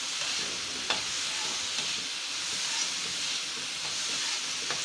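Chopped tomato and onion fry in a pan for sabudana khichdi while being stirred, a steady close sizzle and hiss with a few faint scrape clicks from the spoon.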